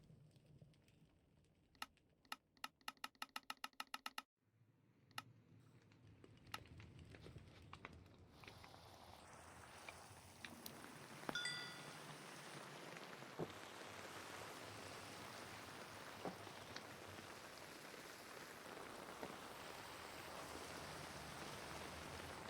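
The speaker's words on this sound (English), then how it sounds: "I love this rain sound mod." Steady rain from a rain sound mod in the Minecraft Jurassicraft video game, dense continuous patter rising after a few seconds of sharp keyboard-like clicks and holding loud and even to the end.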